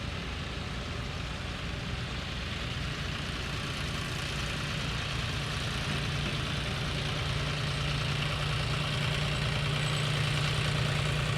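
A diesel John Deere tractor engine idles steadily with a low, even rumble throughout, with no voices.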